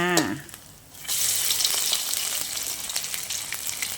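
Fritters of white sticky corn, made without flour or egg, sizzle in oil in a non-stick pan. After a brief voice and a short lull, a steady, close frying crackle continues to the end.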